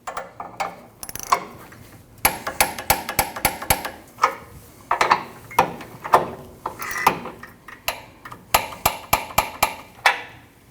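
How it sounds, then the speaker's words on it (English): Close, crisp ratcheting clicks come in quick bursts with short pauses as a wrench tightens two nuts on a rear sway bar link of a 2012-2021 Nissan NV2500. No voices. "Then you want to torque your two nuts to 29 foot-pounds."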